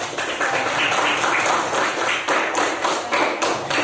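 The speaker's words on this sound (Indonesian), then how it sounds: "Beri tepuk tangan untuk kelompok Neptunus." A classroom of students claps for a student group in quick, close, rhythmic bursts that swell and dip in a steady pattern.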